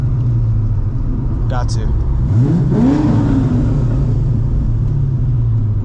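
A loud cammed C5 Corvette engine rumbles steadily while cruising, with a brief rev partway through, heard from inside the car under a short spoken phrase.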